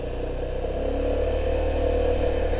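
Motorcycle engine running steadily with a low, throbbing rumble and a slight rise in revs, loud and close, outdoors in a large open park grounds at Barretos.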